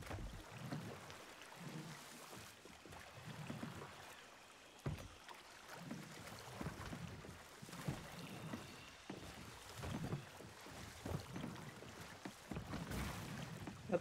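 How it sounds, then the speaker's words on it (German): A rowboat in Sea of Thieves being rowed toward the beach, with soft rhythmic oar strokes and water sloshing over gentle wind and sea ambience, faint and steady. "Ich fahre mal mit dem Ruderboot ein bisschen an den Strand."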